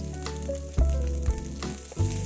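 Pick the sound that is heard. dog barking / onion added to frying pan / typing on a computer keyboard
onion added to frying pan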